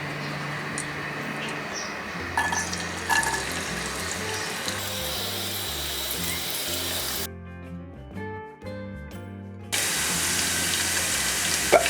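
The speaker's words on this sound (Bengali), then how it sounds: "আদা রসুনগুলো ভালোভাবে সিজলিং হচ্ছে, দেখতে পাচ্ছেন" Ginger and garlic fry in hot oil as a steady close sizzle, broken midway by a brief quieter stretch with a background tone before the hiss returns at full strength.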